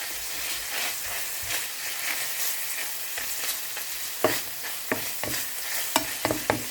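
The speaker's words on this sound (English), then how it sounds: "Let it cook for 2 to 3 minutes. Just continue on stirring." Minced pork sizzles and fries in a pan while a utensil stirs it, a constant crackle broken by sharp scraping knocks against the pan that grow more frequent toward the end.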